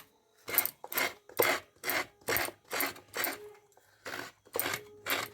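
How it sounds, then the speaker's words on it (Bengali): Coconut grated by hand for pitha on Makar Sankranti: about ten steady, close rasping strokes in an even rhythm, each a short scraping burst with brief gaps between, no voices. "আজকে পিঠের জন্য মা নারকেলটা কুড়ে নিচ্ছে"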